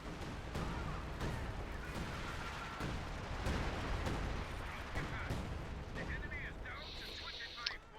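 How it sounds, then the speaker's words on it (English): Scavenger artillery fire from a Company of Heroes 2 match, a steady barrage of booming shell impacts and crackling blasts throughout, with a game voice in the background. "Let's see if the scavenger artillery actually manages to connect."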